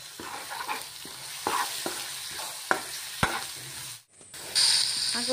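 A spice paste seasoned with salt and turmeric frying in a pan, crackling and sizzling steadily up close while a spatula stirs it with several soft knocks, then a brief hush before the sizzle returns louder.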